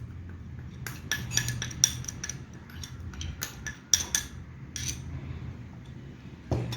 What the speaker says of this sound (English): this I will mix all together, and this dressing I'll be adding it to the potatoes